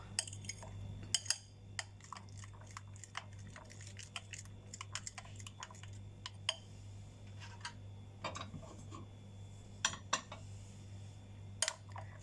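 Cheese being stirred into a chicken malai boti marinade, a spoon scraping and tapping against a bowl in irregular light clicks over a steady low hum, close and fairly quiet.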